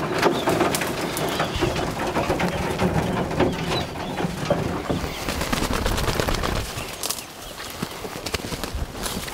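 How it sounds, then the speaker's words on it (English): Game birds at a gun dog training ground chirp and flutter close by, with busy scattered calls and wing clatter over outdoor background noise, then a brief lull near the end. "She hears them chirping over here."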